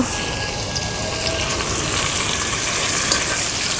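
Tomatoes go into a hot frying pan with onion and green chilli for a tiny fish curry, setting off a loud, dense, continuous sizzle and crackle close up, with no voices.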